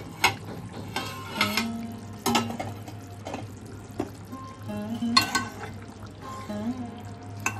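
Fried eggs drop into a pan of egg curry, setting off a close sizzle and frying crackle with intermittent stirring clinks and scrapes, no voices.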